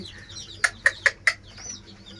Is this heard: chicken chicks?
yes